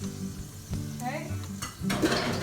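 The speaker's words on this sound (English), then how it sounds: "now that everything's in there, we're just going to stir it. Mix it all up." A spoon stirs chorizo, red lentils and penne in a white sauce in a pan, giving close scraping and gentle bubbling sizzle with a couple of sharper clacks.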